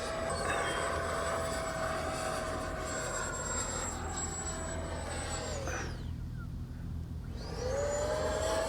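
An FMS 80mm Dassault Rafale RC jet with an electric ducted fan flies overhead at a 4th of July event, a steady high whine that dips sharply in pitch as it passes, then rises again on return; loud and alone.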